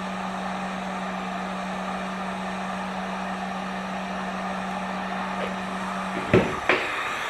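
A heat gun warming dirt bike plastic graphics makes a steady, fairly quiet whirring hum with a constant tone, then cuts off near the end with two brief clicks.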